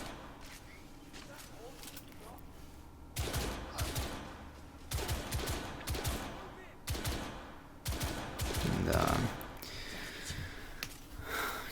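Repeated gunshots from shooting enemies in The Order: 1886, sharp bursts arriving in clusters after a quieter opening, heard beneath someone talking steadily over the gameplay.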